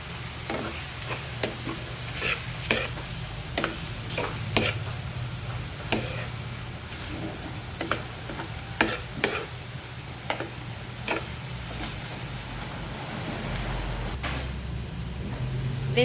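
Eggs sizzle in a pan with chayote filling while a utensil stirs, giving soft steady frying hiss broken by regular light scraping and tapping strokes, close and fairly quiet with no talking.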